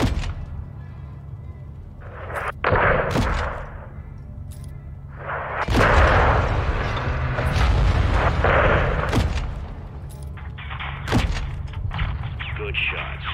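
Gunfire and heavy blasts in Call of Duty: Modern Warfare II. Distant, booming shots and impacts land every few seconds over a steady low rumble, with speech in between.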